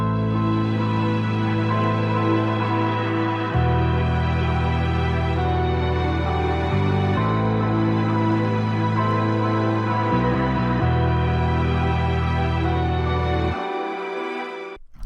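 Layered synth strings play triad chords with doubled notes, sustained pads stepping between chord changes in a steady loop, loud and full, with no talk over them.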